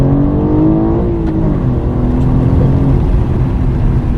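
A manual BMW M4 G82 with a downpipe and tune revs loudly and steadily with a rich, high-pitched exhaust note, the pitch dipping slightly then climbing again, continuous throughout with no talking.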